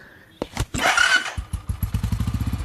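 A motorcycle engine cranks with a few sharp thumps, catches with a burst, then settles into a rapid, even putter close by, with no voices over it.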